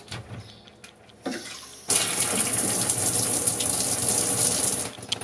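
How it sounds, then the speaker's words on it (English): Shower in a tiny house plumbed with push-fit connectors is switched on, and after a short quiet start a steady loud hiss of flowing water fills the rest of the clip. "Okay, so we'll test the shower, turn it on."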